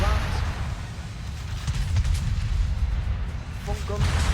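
Heavy battleship main guns firing from the Bismarck in the naval game World of Warships, a deep rumbling boom with continuous low battle noise and sharp bursts near the end.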